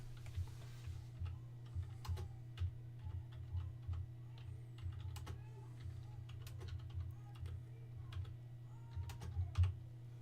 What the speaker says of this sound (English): let's see if you can type into the keyboard